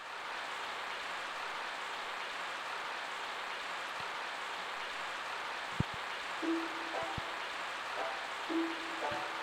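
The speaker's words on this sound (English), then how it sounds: "So much rain." Steady soft rain hisses evenly throughout in the PS2 role-playing game Growlanser III, faint and constant, with a few quiet game tones and clicks near the end.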